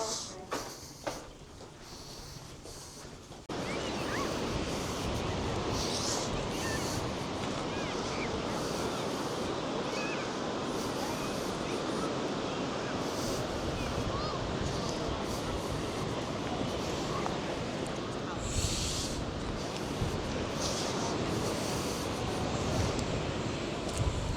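Strong wind on a coastal walk between Amroth and Saundersfoot: loud, steady buffeting roar across the microphone that sets in after a few seconds and continues unbroken, with faint scattered bumps.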